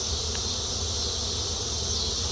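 Honey bees from a small single-brood hive drone in a steady, even buzz that fills the air throughout, with no talk.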